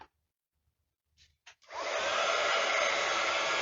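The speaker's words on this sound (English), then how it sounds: "Now this is going to come a little bit noisy because I'm going to bring in my heat tool." A heat tool kicks on after a few soft clicks and handling knocks, then blows hot air in a loud, steady roar that holds without a break.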